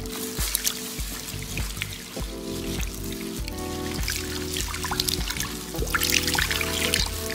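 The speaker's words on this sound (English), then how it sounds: "Now I'm washing the fixati from her hair." Running water rinses perm fixative out of a woman's short hair, a continuous pouring and trickling stream splashing steadily with shifting tones throughout.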